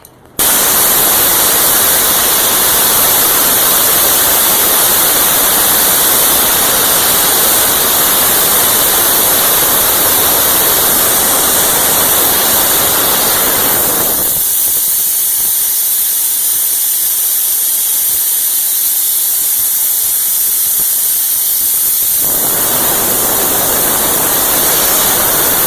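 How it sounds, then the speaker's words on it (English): Air compressor tank being drained, a loud continuous broadband hiss of escaping air that runs steadily throughout, dropping in its lower rush for several seconds midway before returning full; no talking. "now I'm going to drain the compressor down and see if it pumps up."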